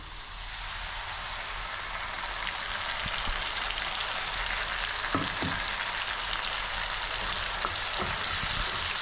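Spice paste of ginger, poppy seeds, cumin and tomato frying in oil for a small-fish curry, a steady crackling sizzle like rain with occasional faint stirring clicks.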